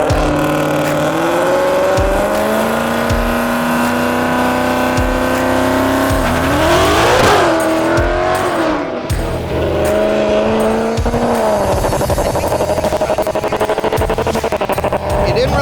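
A Pony Wars drag race car's engine roars loud and close with throttle surges and a rising rev as the rear tire spins and wheel hops, then the throttle is pulled back; the engine noise runs continuously throughout.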